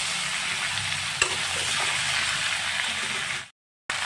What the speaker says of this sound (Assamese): 1 চামুচ জিৰা গুড়ি, 1 চামুচ জলকীয়া গুড়ি, 1 চামুচ হালধি গুড়ি দি ভালদৰে এইখিনি অলপমান ভাজি লৈ আছোঁ